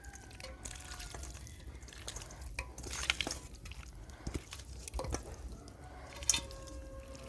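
Raw chicken being worked by hand into an onion and spice paste for handi chicken, giving soft wet squelches and small drippy squishes, fairly quiet and close, with no talking.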